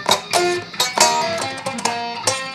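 A guitar strummed in a handful of full chords, each attack bright and ringing before the next, finishing on a final sustained down-up strum.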